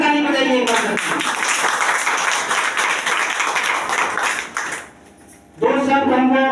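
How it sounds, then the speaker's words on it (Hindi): A live audience claps loudly and steadily for about four seconds, the applause fading into a brief lull before a voice resumes speaking. "जोरदार ताली बजाइए।"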